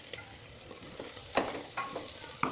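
Beetroot is stirred and fried in a pan for tomato bath, a soft sizzle beneath a few distinct scraping strokes of the spoon, close and moderately quiet, with no voices.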